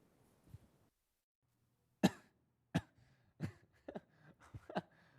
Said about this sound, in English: I was coughing, guys, my bad